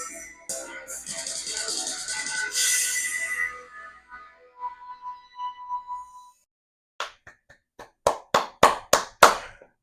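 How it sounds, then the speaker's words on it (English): One person clapping hands, a short run of sharp, close claps near the end, after a stretch of other sound. "Singular claps are so embarrassing, let me tell you."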